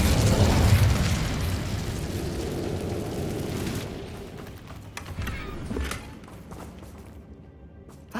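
The Incendio fire spell explodes in Hogwarts Legacy as a loud booming burst at the start that rumbles and fades, followed by quieter thuds and pops from the game scene.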